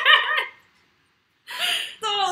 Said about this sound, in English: get the dog out of here.